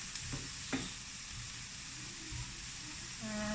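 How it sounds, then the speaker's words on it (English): Zucchini cooks in a pan, a quiet sizzle with a few soft stirring scrapes, fairly faint and heard without talk. "Dump it in and then stir it up, and that will cook it enough because we like our zucchini pretty raw."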